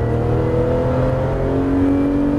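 A Porsche GT3 RS accelerates hard on the Issoire racing circuit, its engine note climbing steadily, loud and close, with no voices over it.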